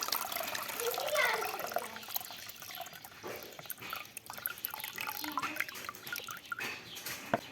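Banana peels are dropped into a container of cold water, making soft splashing and dripping sounds close by, with a voice speaking quietly in the background.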